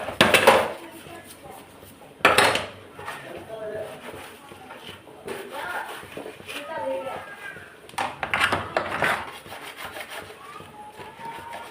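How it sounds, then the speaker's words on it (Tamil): Kitchen scrubbing and scraping while washing dishes, with occasional sharp clanks of metal pots, a few louder knocks standing out over steady rubbing. "அதனால் ஒரு 5 பாத்திரமாக விளக்கிக்கிடலான்னு பார்க்குறேன்"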